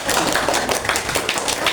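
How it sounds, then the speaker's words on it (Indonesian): A classroom group claps for group 1 during a coding and computational-thinking lesson, a busy patter of hands with sharp individual taps throughout. "Tepuk tangan untuk kelompok 1."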